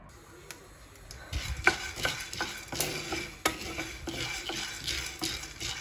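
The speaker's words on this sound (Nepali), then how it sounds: "मैले चाहिँ यहाँ भटमास भुट्न राखेको छु झोल अचार मोमोको लागि बनाउनको लागि" Soybeans being stirred and fried in a pan for momo pickle at an outdoor garden party, with scraping spoon strokes, clinks and a soft sizzle, close by with no talk.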